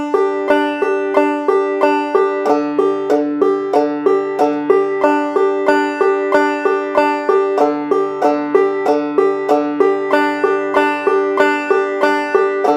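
A banjo played clawhammer style alternates double thumbing patterns on the first and fifth strings, then the fourth and fifth, producing a brisk, even stream of ringing plucked notes, close up and unaccompanied.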